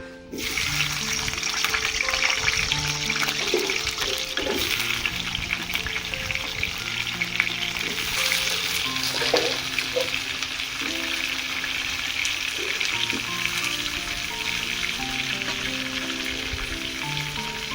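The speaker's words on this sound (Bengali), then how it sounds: "এবার আমি আলু কেটে একসঙ্গে ভেজে নেব" Cut potato pieces frying in a pan with oil, a continuous loud sizzle with occasional stirring knocks, and faint clattering underneath, without any talking.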